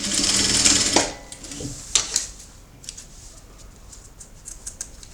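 A sewing machine stitches the seam of a rag doll's double-sided skirt. A loud, close, rapid mechanical whir runs for about a second, then gives way to scattered soft clicks and fabric handling, with no talk.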